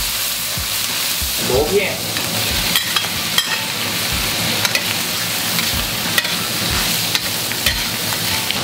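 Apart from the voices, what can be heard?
stir-frying conch slices with garlic, ginger and pickled mustard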